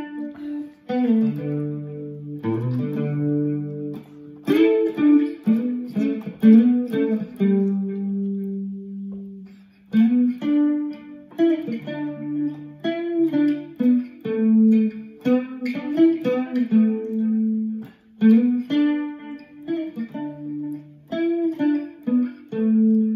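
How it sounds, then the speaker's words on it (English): Single-note lead guitar melody, played with one finger on three strings, runs continuously and clearly at a steady moderate level with sustained tones and slides, no talking over it. "You can do a one finger solo."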